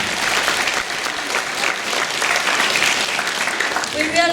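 A concert audience in Beijing applauds a band, sustained clapping and crowd noise throughout, with a voice briefly speaking over the end.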